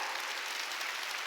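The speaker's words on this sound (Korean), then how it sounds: "박수 치라고. 더 세게," A congregation at a Korean church Sunday service claps hands in dense, continuous applause that stays even throughout, with no talking.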